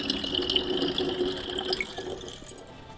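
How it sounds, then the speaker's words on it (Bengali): Tap water pours at full speed into a drum at home, a steady close splashing rush that tapers slightly toward the end. "দেখো জলের স্পিড পুরো আছে, কিন্তু পুরো দিয়ে ভরতেই পারি না"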